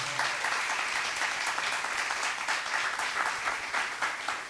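An audience claps for the sound team in a full, sustained round of applause, many hands blending into a steady wash of moderate loudness that runs throughout without voices.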